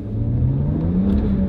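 A BMW engine revs up steadily as the gas pedal is pressed after smooth idling, a close mid-pitched rising whine over a rumbling drone with no talk.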